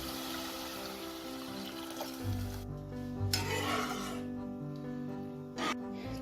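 A spoon stirs pepper powder into a pot of chicken Manchow soup amid a low sizzle, then chicken stock pours in with a fuller, gurgling wash, heard close and fairly soft, with no voices.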